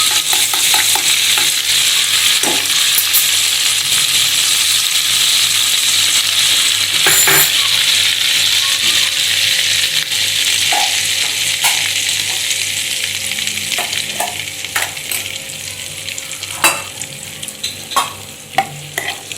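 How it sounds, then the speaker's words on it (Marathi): Half a spoon of butter sizzling loudly in hot oil in a pan for an Afghani egg curry, a dense continuous frying hiss with occasional stirring clinks, close and strong, easing slightly toward the end. "आता या तेलात अर्धा चमचा बटर घालूया"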